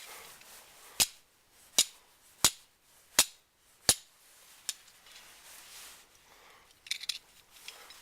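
Flint struck against steel to throw sparks, five sharp, evenly spaced clicks close by, then a fainter strike and a few small scrapes in a quiet setting.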